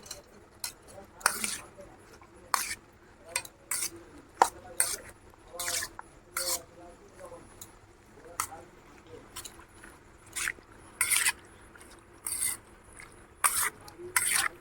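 Shrimp being mixed by hand with a spoonful of vinegar marinade in a bowl, giving repeated short scraping and clinking strokes at a steady irregular rhythm, close and moderately loud, with quiet background between strokes.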